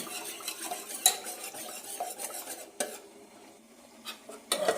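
A spoon stirs banana bread batter of flour and sugar in a bowl, soft scraping swirls broken by a few sharp clinks against the side, close and fairly quiet.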